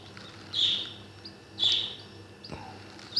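Newly hatched bird chicks give short high chirps, two clear bursts about a second apart followed by a fainter one, heard close against a quiet background.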